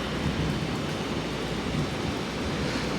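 Steady, dense rain pouring down with a constant hiss and rumble, no pauses or voices.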